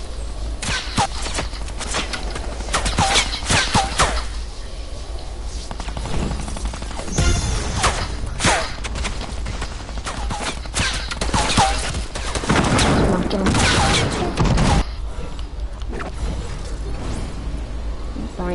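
Rapid bursts of video game gunfire, loud and dense, with repeated volleys and short pauses throughout.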